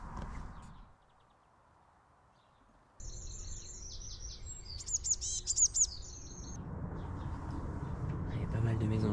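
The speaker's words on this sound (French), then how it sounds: "Il y a pas mal de mésanges bleus qui arrivent là. Mésange bleu, mésange charbonnière, une mésange nette également." Blue tits and great tits visit a garden feeder, giving a short cluster of thin, high chirps over a steady background hiss. The calls are fairly faint and close together.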